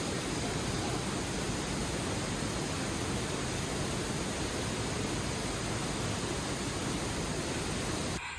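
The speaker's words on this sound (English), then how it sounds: "this little cave to see one of the big waterfalls up close" A big waterfall in a canyon in the Canadian Rockies, heard up close from a small cave. It makes a loud, unbroken broadband roar that holds steady the whole time, with no voices.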